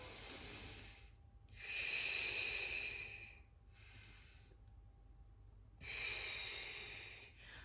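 Slow, deliberate breaths during a Pilates mat class, a long hissing inhale and exhale repeated in a steady cycle, close and clear with no talking over them.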